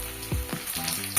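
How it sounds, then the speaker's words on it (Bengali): Chopped onion being fried in oil, added after potatoes for a banana-flower curry, gives a steady close sizzle with a couple of low clunks as it is stirred in, no one speaking. "পেঁয়াজটাকে একটু ভেজে নেব"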